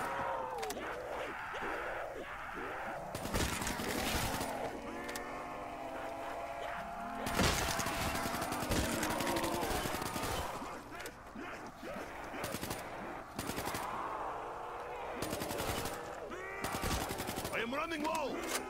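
Rapid bursts of video game gunfire, loud automatic volleys separated by short pauses, layered over game voices and effects.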